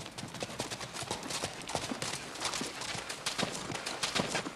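Horses' hooves clip-clop in a steady, busy rhythm on hard ground, close and continuous against a noisy outdoor background, as riders arrive at a ranch house in a 1959 Western.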